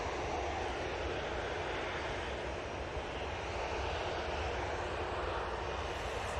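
TUI airliner coming in to land at Manchester Airport, its engines a continuous broad roar at moderate distance, steady and unbroken with no voices over it.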